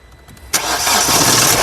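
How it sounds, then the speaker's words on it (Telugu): A 2019 Mahindra XUV300 W8 (O) car engine cranks and starts after a short quiet pause, catching with a sudden burst and settling into a steady, loud idle, recorded close by. "और एक बार गाड़ी स्टार्ट करो"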